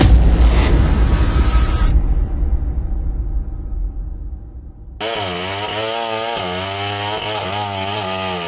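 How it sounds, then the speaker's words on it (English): Chainsaw cutting through a giant redwood trunk, loud and close at first, then dropping off as the cut ends before the engine roars again with rising and falling revs. "the roar of chainsaws shakes the earth"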